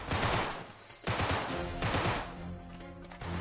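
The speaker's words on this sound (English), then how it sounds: "who's shooting me?" Gunfire in the video game Uncharted 3: Drake's Deception, three loud bursts of rapid shots in quick succession, each trailing off briefly before the next.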